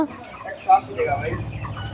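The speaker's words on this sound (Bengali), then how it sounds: "মুরগির দোকান দেশি মুরগি ব্রয়লার মুরগি" Hens cluck in short bursts at a chicken stall selling native and broiler chickens in a busy Bangladeshi village market, with voices talking nearby.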